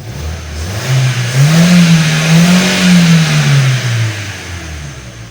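Ford Focus 2 with a 1.4 engine running after a starter replacement, partly warmed up: a close, loud engine rev that rises smoothly, holds, then falls back, with no talking.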